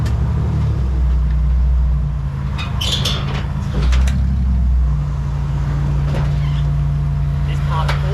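A car rolls slowly onto the weighbridge at a scrap metal yard, its engine a steady low hum that rises and dips briefly, with speech over the top and faint yard noises in the background.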